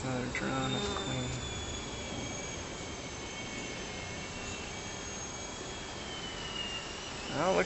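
Honey bees hum in a continuous, close buzz while a top bar barrel hive is opened for inspection, with a few louder passes as individual bees fly near.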